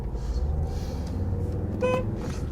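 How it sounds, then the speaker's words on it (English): A car horn gives a single short toot from close by while driving through Dover at night. It rises briefly above the steady road rumble and engine noise inside the car. "I'll give them a toot."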